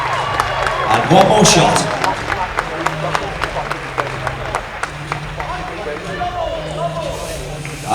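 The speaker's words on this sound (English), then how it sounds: "Audience members, a round of applause for your category winner." Scattered audience clapping and some cheers for a category winner at a natural bodybuilding show, fairly close, while someone speaks briefly over it.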